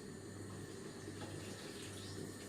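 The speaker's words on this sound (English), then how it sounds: "Let me throw out a little water here now" Water is tipped out of a pot of washed basmati rice, a soft, steady trickle and splash lasting a couple of seconds, faint and alone with no talk.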